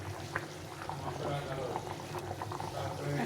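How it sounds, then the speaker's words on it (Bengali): Egg curry broth bubbles in a pan at a low, steady boil, with soft continuous burbling close by and a voice talking over it. "ডিমের ঝোল ফুটে গেছে একটু ঝোল করব এটা কষা কষা করবো না"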